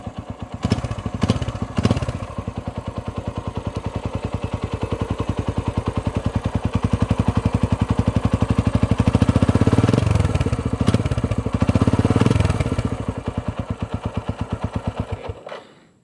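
A Suzuki Thunder GSX 250 motorcycle engine with twin-port exhaust idles and revs nearby with a deep, bassy burble, rising in a couple of throttle blips before cutting off at the end.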